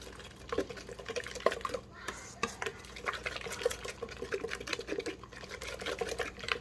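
Canned pure pumpkin being mixed into cake batter in a bowl, a continuous wet, squelching whisk or spatula rhythm with light tapping against the bowl, close and fairly soft.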